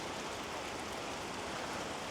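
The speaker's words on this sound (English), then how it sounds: "Look at that rain." Steady rain falling outdoors, a dense even hiss of drops on surfaces with no gaps, moderately quiet and continuous throughout.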